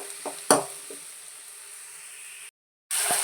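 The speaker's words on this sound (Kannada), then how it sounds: "ಟೊಮೊಟೊ ಹಣ್ಣನ್ನು ಸಹ ಅದನ್ನು ಸಹ ಸೇರಿಸ್ಕೊಂಡು 1 ನಿಮಿಷ ಈ ರೀತಿ ನೀಟಾಗಿ ಮಿಕ್ಸ್ ಮಾಡ್ಕೊತ ಫ್ರೈ ಮಾಡ್ಕೊಳ್ಳಿ" Medium tomato stirred and fried in a pan for jeera rasam: a steady soft sizzle with a few spoon clicks against the pan, then a brief dropout to silence before the hiss returns.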